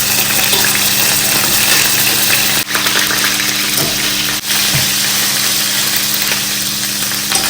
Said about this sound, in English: Let's fry our beef